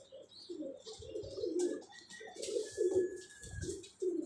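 Pigeons coo in repeated low, throaty bursts inside a pigeon club loft, close and fairly loud, with some chirps and faint wing flutters mixed in.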